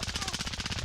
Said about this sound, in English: Oh, damn, I'm shooting my teammate